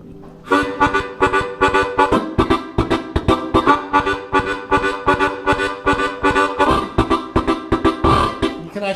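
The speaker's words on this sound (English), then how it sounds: "Okay, so you draw in and then you blow out, and that'll be your 4 chord" Harmonica playing a 4 chord, alternately drawing in and blowing out, in steady rhythmic pulses of rich chordal reed tone, close and loud with no talking.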